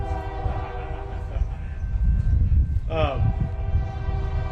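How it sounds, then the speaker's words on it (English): A train rolls past during a public presentation in Russellville, its horn blaring near the three-second mark with a sliding, bending pitch over a steady rumble while people talk. "Looks like we've got another train coming."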